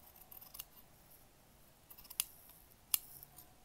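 Scissors snip through fabric for a knitting needle case, a few crisp, close cuts spaced apart in a quiet room.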